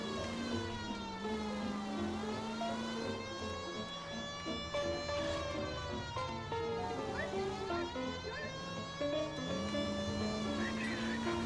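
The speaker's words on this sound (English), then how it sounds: "Come on, I got my siren going." A police car siren in L.A. Noire wails, rising and falling steadily throughout, loud and continuous, with faint electronic game-like sound underneath.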